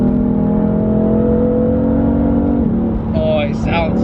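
A BMW F80 M3 on its standard exhaust drones with a deep, steady engine note heard from inside the car, then the pitch shifts and the revs rise briefly as someone talks over it.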